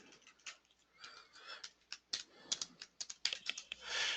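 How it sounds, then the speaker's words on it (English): Keys clatter in quick, uneven bursts of clicks on a computer keyboard during a flow cytometry software session, close and fairly quiet, with brief pauses and no talk. "Or I could just simply just type in here"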